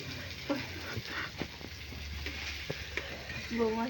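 Vegetables frying in a pan for a green tomato curry, a steady close sizzle with occasional stirring clatter, faint voices briefly in the background.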